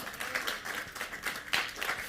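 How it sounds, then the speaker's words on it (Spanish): A church congregation claps for the Lord during a sermon, with brisk, uneven clapping in rhythmic bursts that peak briefly near the middle, moderately quiet and heard alone. "Un aplauso fuerte al Señor"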